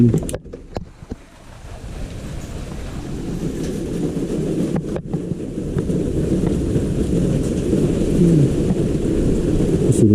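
Strong typhoon wind roaring steadily against the microphone, a low rumbling rush that builds slightly louder over time, with a couple of knocks early on.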